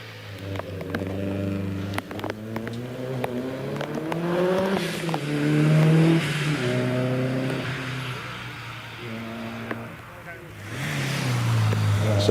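A 2-litre Subaru Impreza rally car climbs a hill, with engine revs rising and falling through gear changes at moderate distance and a steady roar running throughout.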